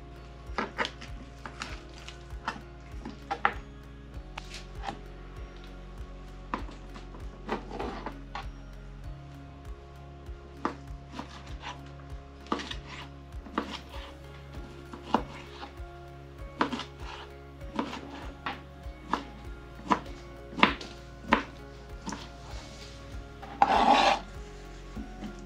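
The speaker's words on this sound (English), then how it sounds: "I'm going to chop off the skin on the outside and as much fat as I can." A knife trims the skin and fat off meat for breakfast burritos, a long run of quiet rhythmic scraping and rasping strokes, close and steady, with no voices.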